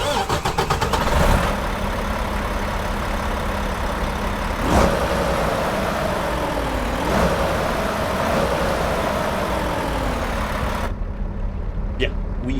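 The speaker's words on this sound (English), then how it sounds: "listen to these engines start up." Vehicle engines crank and start up on a rainy day in Galveston, then settle into a loud, steady rumbling idle with a few changes in pitch as they rev.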